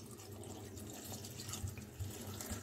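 Water runs steadily into a pressure cooker holding rice, lentils, garlic and salt for a dal rice dish, a continuous splashing pour that stays fairly close for the whole stretch with no talk over it.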